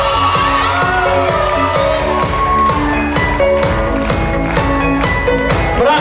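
A wedding party crowd, close and loud, claps and cheers in a dense continuous roar, with scattered shouts and voices mixed through the applause.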